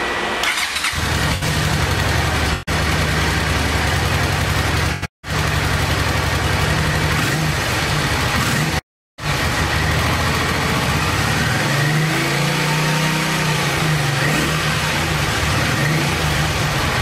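A 1986 Honda VT500 Shadow motorcycle engine, its carburetor freshly cleaned, fires up and runs at a loud, steady idle up close, then revs up and settles again, with two brief dropouts in the sound.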